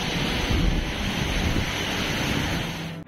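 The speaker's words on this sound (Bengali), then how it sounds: "দেখো পুরো ও ব্যাপক ঢেউ আসছে, দারুণ ঢেউ" Ocean surf breaking on the beach at Puri, a steady, loud broadband roar of waves that swells slightly partway through and holds for about three seconds with no voices.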